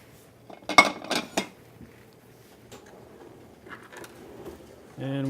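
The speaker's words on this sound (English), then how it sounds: "we'll stir that around and saute those veggies until they get partially cooked" A utensil stirs carrots, celery and chopped onion sauteing in a pot for chicken noodle soup. A cluster of sharp metallic clinks comes early, then softer scraping, and a voice starts speaking at the very end.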